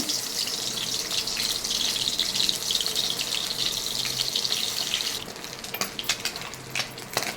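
Bhetki fish sizzling as it fries lightly in a hot kadai: a loud, steady hiss that shifts after about five seconds into a thinner, crackling spatter.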